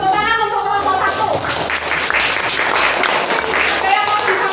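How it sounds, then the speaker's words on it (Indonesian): A classroom of students claps for a group after a maths presentation, a loud, busy burst of many hands that stays steady throughout, with voices mixed in. "Tepuk tangan untuk kelompok 1."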